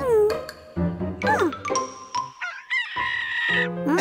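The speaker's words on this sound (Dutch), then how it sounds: "De haan heeft ook honger." Cartoon rooster on a farm crowing a bright, squawky cock-a-doodle-doo with tinkling musical accents and bouncy jingles, loud and close.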